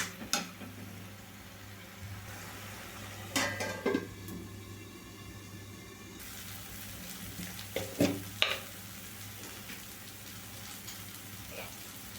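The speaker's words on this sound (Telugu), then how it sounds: "మూత పెట్టుకొని నూనె పైకి తేలిందాక మధ్య మధ్యలో కలదిప్పుతా వేయించుకోవాలండి" Okra fries in oil in a pan, giving a steady soft sizzle, broken by a few brief scraping clatters as it is stirred. No voices are heard.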